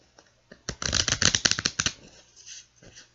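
Tarot cards being shuffled up close, a quick burst of rapid riffling flutters followed by softer taps and card handling, fairly quiet with no talking.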